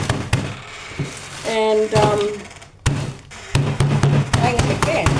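Someone bangs on a bag of food to crush it into crumbs while cooking at home, giving a run of dull thumps and taps through the clip, interleaved with a person talking close by.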